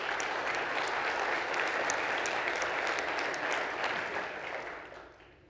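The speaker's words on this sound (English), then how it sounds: "So give yourselves another round of applause." A conference audience at a tech community event gives a dense, steady round of applause that holds for several seconds and then fades out.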